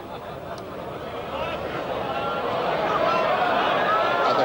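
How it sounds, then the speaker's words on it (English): A crowd at the 1995 Waterloo event swells in a rising murmur of urging voices, a broad wash of chatter and exclamations growing steadily louder over several seconds. "And the crowd urging that to go in."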